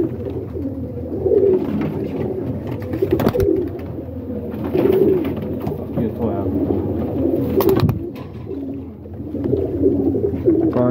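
Pigeons coo continuously nearby in low, throaty murmurs, with a voice talking over them and a couple of sharp knocks.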